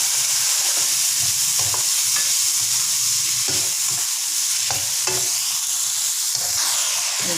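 Broccoli stir-fries in a pan, giving a loud, constant sizzle with intermittent scraping and clacking from stirring. The sound is close, and no one talks.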